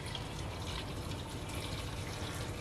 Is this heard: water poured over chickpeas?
yes